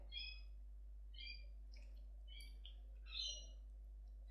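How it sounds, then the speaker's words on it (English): Birds chirp and call outdoors, several short bright phrases spaced apart, faint and distant over a low steady hum. "I can hear birds outside."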